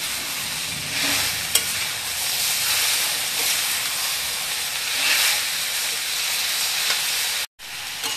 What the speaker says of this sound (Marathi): टॅमॅटो पण परतून घेऊया.